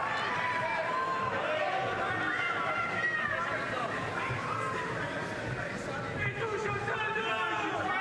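A boxing arena crowd reacts to a champion's body-and-head punch combination, a steady roar and murmur of spectators continuing under a commentator's voice.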